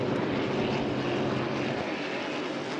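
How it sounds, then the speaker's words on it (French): A camera drone flies over a hydroplane boat race at Valleyfield, heard as a loud, steady, dense droning roar that holds unbroken throughout with no voices. "Ah, c'est le drone"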